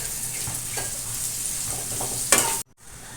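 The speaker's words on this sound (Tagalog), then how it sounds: "Piprito natin para malutong at saka hindi gaano madurog." Oil sizzles continuously as papaya fries, with soft stirring scrapes, then the sound cuts off abruptly near the end.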